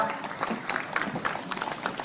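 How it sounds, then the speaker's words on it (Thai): Guests at a Thai wedding applaud the bride's parents, a soft scattered clapping heard fairly distantly in a reverberant hall, with a voice faintly audible beneath it. "ขอเสียงปรบมือคุณพ่อคุณแม่อีกครั้งหนึ่งนะครับ"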